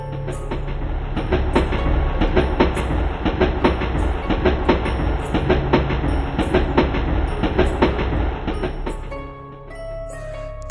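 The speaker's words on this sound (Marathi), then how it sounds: "ट्रेन पण सुटली" A train pulls away with rhythmic clickety-clack from wheels over rail joints, loud and close, with rumbling carriages and squealing metal that thin out toward the end.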